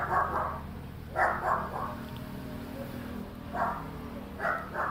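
A dog barks in three or four separate bouts, some distance away, with steady low background noise between them and no speech.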